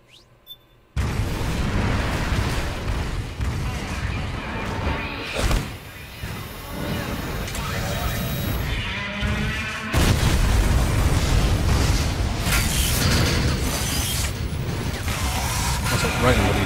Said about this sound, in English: Also, Ryan, what are you doing looking at the explosion?